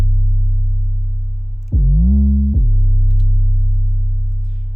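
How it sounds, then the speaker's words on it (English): A Ricky Remedy 808 bass sample holds a deep, loud, sustained sub tone, with a brief pitched glide in the middle before it settles back and slowly fades. "Again, a Ricky Remedy 808."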